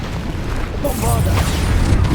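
A Bombarda blasting spell from Hogwarts Legacy detonates with a deep booming explosion that swells and rumbles for over a second, preceded by softer magical whooshes and followed by sustained low roaring debris.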